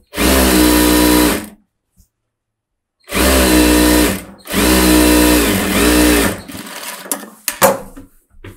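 A sewing machine runs in three loud bursts while stitching the back seam of a chudithar, with short pauses between them and a few clicks and rustles of fabric handling at the end.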